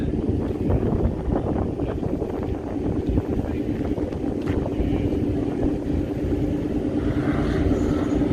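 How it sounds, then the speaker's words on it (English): Turbocharged four-cylinder engine at the front of a small Lancia, driven hard in the March, giving a steady loud engine drone with wind buffeting across the whole stretch. "This is a turbocharged 4-banger in the front of the little Lancia"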